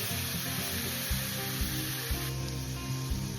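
Turmeric, salt and spices frying in a pan with a splash of water for an aam rui dish, a loud close sizzle with rhythmic stirring thumps, no talk.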